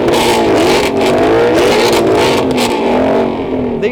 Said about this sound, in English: That's all three cars revving together simultaneously.